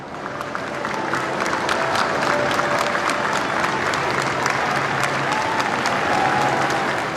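Crowds lining the streets of Westminster applaud steadily as Margaret Thatcher's hearse passes, a dense, sustained wash of clapping that holds loud and even throughout with no clear voices.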